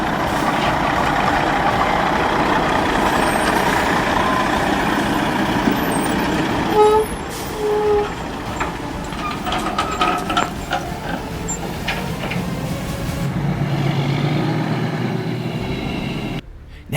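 A heavy log truck drives over rough terrain with a loud, continuous engine roar, punctuated midway by an air brake hiss and scattered clanks and rattles before the engine noise eases toward the end.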